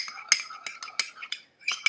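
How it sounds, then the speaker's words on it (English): A red and yellow tint mixture being stirred in a cup, giving a quick run of light, bright clinks and scrapes at an irregular rhythm, close by, with no voices. "I'm just going to mix it all together"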